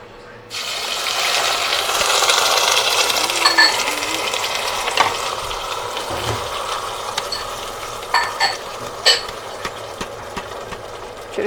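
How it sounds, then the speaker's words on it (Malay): Ground spice paste sautéed in a little hot oil for ayam percik gives a steady, close sizzling hiss that lasts throughout, with a few light clinks and taps near the end. "Panaskan minyak dulu dengan sedikit minyak ya. Kita tumis bahan-bahan kisar kita tadi."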